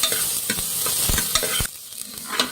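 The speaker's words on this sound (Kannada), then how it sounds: "ಈರುಳ್ಳಿ ಫ್ರೈ ಮಾಡಿ." Finely chopped onion fries in hot oil for a hotel-style goat leg soup, a loud close sizzle broken by repeated scraping strokes of a spoon stirring the pan, with no talk.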